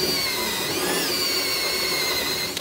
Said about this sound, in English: we're now going to countersink this next one.